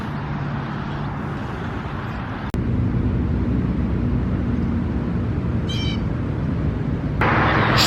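Urban traffic in Delaware Park in Buffalo, New York, makes a constant broad roar that steps up in loudness twice, with a short high chirp partway through.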